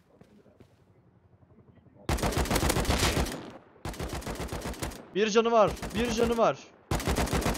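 Automatic gunfire in Rust, several loud rapid bursts separated by short gaps, with a voice speaking between and over the shots.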